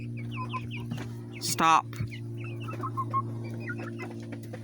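Hens, a rooster and chicks clucking and chirping in a busy chorus of short, pecky calls over a steady low hum, with one louder squawk partway through and a brief spoken word.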